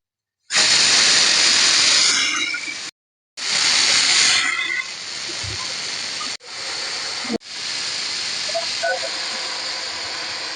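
Bursts of loud hissing steam venting from a pressure cooker cooking beef bone gravy, broken by short silences, then a steadier, softer hiss continuing with a few clicks.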